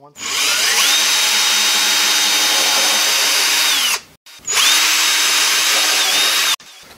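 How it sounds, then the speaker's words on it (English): Two bursts of a power drill whirring steadily at high speed while drilling pilot holes in Adirondack chair wood, the first about four seconds long, the second shorter, loud and close. "I'm going to drill a couple of pilot holes once again"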